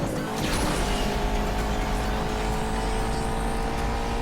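Steady, loud video game car engine drone in Asphalt 8 with a high whine, like a racing car holding speed, continuous without pauses or voices.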